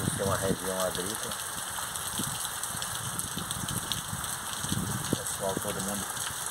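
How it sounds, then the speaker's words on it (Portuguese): Heavy nighttime rain pours down in Irecê, Bahia, in a farming region of the sertão, a dense steady hiss filling the whole stretch, with brief faint voices near the start and end. "olha a intensidade dessa chuva"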